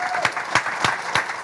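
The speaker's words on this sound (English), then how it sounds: "Huge round of applause, guys." A studio audience claps in a brief burst of applause, with a few sharp, close claps standing out above a steady spread of hands from the crowd.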